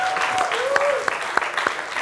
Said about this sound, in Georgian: აპლოდისმენტები 100 ლარი.